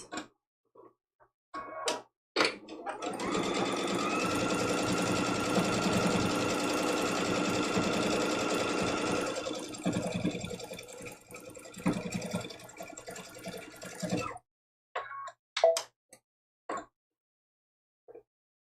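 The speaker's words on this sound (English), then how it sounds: "we're sewing all the way around" Sewing machine stitching around the edge of a small quilted mug rug, a steady fast whirring run of about twelve seconds, preceded and followed by brief handling clicks.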